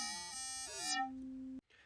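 An FM synthesizer patch plays a bright, bell-like electronic tone with shifting harmonics, changing pitch a couple of times before settling into one sustained note that cuts off abruptly, followed by a faint breathy hiss.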